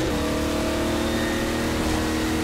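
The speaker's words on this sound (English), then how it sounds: "you'll need to drive the car across first before you can get to the gnome" A car engine in Half-Life 2: Episode Two drones and revs loudly and steadily at close range as the vehicle is driven, with no voices over it.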